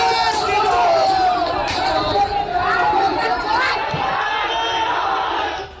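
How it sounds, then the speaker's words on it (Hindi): A large, agitated crowd carrying sticks and saffron flags chants Jai Shri Ram in loud, continuous unison outdoors, the massed voices rising and falling without a break. "जुबां पर जय श्री राम का जय घोष"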